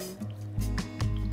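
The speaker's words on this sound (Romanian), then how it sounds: "Mâinile în apă," Hands dipped into a bowl of water while shaping yeasted dough for Moroccan sfenj doughnuts make a few soft close splashes and drips, quiet and brief.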